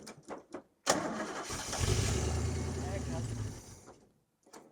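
A Chevrolet Camaro engine cranks and catches on a cold day, then runs loudly for several seconds before dropping away, with people talking briefly before and after it.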